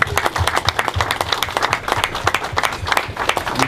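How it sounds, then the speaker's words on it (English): Audience applause at a dedication ceremony for a new community healthcare center in Baler, a dense crowd of steady clapping, fairly loud and close, continuing throughout with no talk. "A round of applause."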